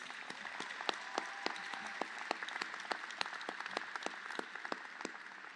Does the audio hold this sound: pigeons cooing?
no